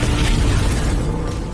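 A massive chain of explosions from dozens of bombs in an action film, a loud, dense, sustained roar of blasts filling the whole clip and easing slightly toward the end, with no speech.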